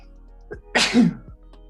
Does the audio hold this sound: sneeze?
yes